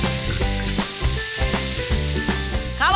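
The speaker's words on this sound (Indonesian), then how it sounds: "Lanjut tumis bumbu halusnya" Ground spice paste is sautéed in a pan, giving a steady frying sizzle with occasional stirring scrapes under prominent background music.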